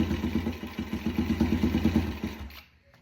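A Yamaha TTR 90 dirt bike engine runs close by with a rapid, rough, pulsing idle, then cuts out and falls to near silence near the end.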